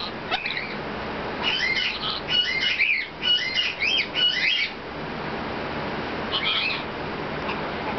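A pet bird gives repeated squawking and chattering calls in short bursts, close and fairly loud, with quieter stretches between them and no clear talk.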